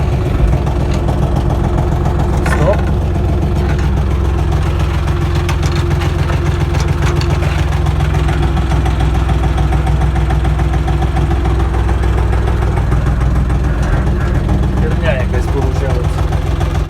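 A tractor engine labors under load while hauling a log beehive up into a tree in winter forest, a loud, steady low drone running throughout with brief clanks and occasional voices over it.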